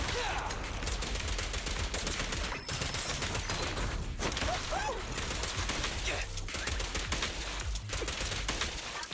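Gunfire from the Zenless Zone Zero action game rattles in rapid, dense bursts alongside hits and effects, loud and nearly continuous with brief gaps.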